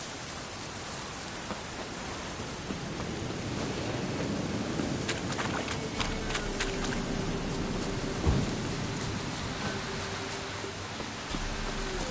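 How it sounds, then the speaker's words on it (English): Steady rain pours in the video game The Witcher, broad hiss throughout, with a crackling lightning strike and a sharp thunder crack around the middle, rumbling on beneath the downpour. "Lightning strike."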